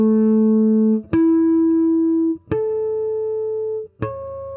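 Harmonics on a single string played one after another in ascending order, forming a harmonic scale: four clear, sustained bell-like tones, each struck note ringing on until the next pluck, with no talking.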